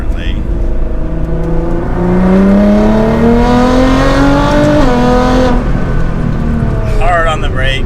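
A sports car with a dual-clutch gearbox and tuned boost accelerates hard on a test drive, its engine note climbing steadily through a long pull, then briefly dropping at a shift. Loud, close cabin sound, followed by a short burst of faint chatter.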